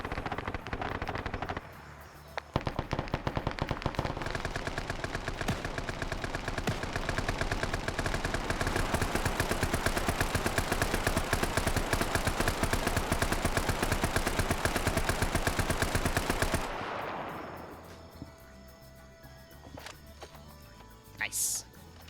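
Machine gun suppression fire during a nighttime Vietnam-era PvP match in a military video game: long sustained bursts of rapid automatic fire, loud and continuous for many seconds, then cutting off, with voices talking over it.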